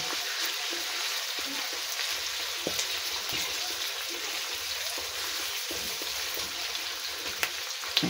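Chicken for pancit bihon guisado fries in a pan with a soft, continuous sizzle and occasional faint clicks of a utensil, moderately quiet and steady throughout.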